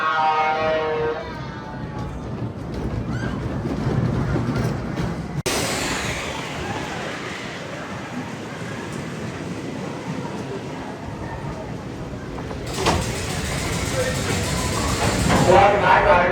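Wolverine Wildcat wooden roller coaster running on its track, a loud continuous rumbling roar with clattering bursts under faint rider noise, steady throughout with a sharper surge partway through.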